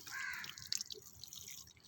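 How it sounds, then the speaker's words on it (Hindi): Water from a shower-type sprinkler falls gently onto seeded garden soil for growing spinach, a soft steady patter and trickle of drops, close and quiet, without any talking. "पानी आपने पहली 1-2 दफ़ा बड़ी एहतियात से देना है, कुछ इस तरह से"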